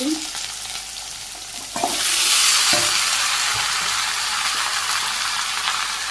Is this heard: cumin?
yes